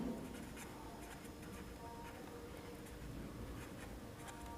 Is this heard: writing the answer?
yes